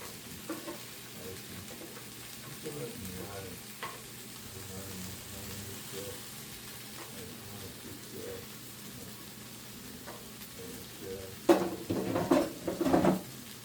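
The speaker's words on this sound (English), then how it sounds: "Next up, we add in our air fried potatoes." Air-fried potatoes are stirred in a pan for home fries, with a soft steady sizzle and scraping stirs, then louder clattering scrapes near the end.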